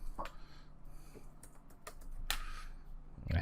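Scattered keystrokes on a computer keyboard while adding text in a basic website editor, sharp taps spaced unevenly over faint room noise, close up and without speech.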